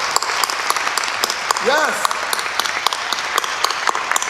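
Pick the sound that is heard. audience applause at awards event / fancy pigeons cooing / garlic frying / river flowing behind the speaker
audience applause at awards event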